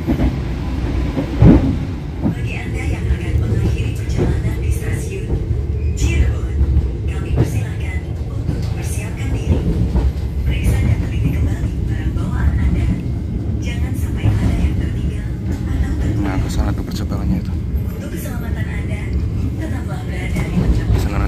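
Rumble and clatter of a passing train heard from aboard the Argo Bromo Anggrek express in Indonesia, a continuous loud rolling roar with wheel clacks, under someone talking throughout.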